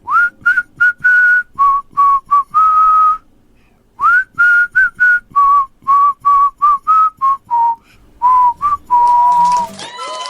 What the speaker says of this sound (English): what song am I whistling right now?